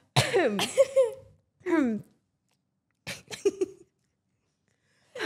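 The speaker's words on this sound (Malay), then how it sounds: "Batuk." Several harsh coughs in separate bursts with pauses between them, close to the microphone, with a voice breaking in among them.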